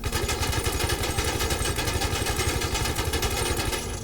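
Sustained, rapid automatic gunfire from a machine gun strafes a Mercedes-Benz in GTA 5, a loud, dense, unbroken burst of shots lasting the whole stretch with no pauses.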